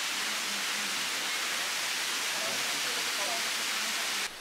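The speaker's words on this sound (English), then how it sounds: "This waterfall is really nice" Waterfall in Minca, Colombia, heard as a dense, loud, continuous roar of rushing water close by that cuts off abruptly at the very end.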